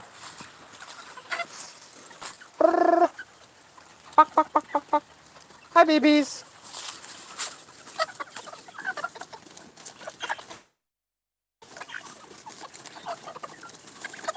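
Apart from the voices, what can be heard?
chickens clucking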